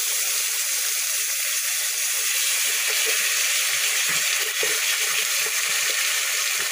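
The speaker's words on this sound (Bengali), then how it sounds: "এবার আমি আদা বাটাটা এর মধ্যে ঢেলে দেব।" Ginger paste hitting hot oil in a pan for a Bengali curd and pointed gourd dish, a steady loud hiss and sizzle with soft popping and bubbling underneath.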